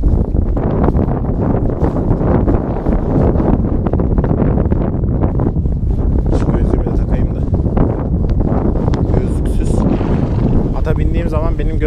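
Strong gusty wind buffets the microphone outdoors while horses are being saddled, a loud rumbling roar that continues throughout as someone talks over it.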